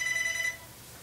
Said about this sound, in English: Sorry for the phone folks in this case here,